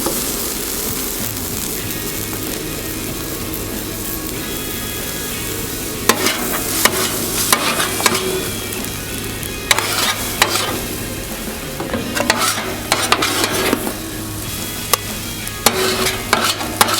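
Eggs scramble on a Blackstone griddle with a steady low sizzle, while a spatula scrapes and taps against the flat-top in irregular bursts, close and clear with no talking.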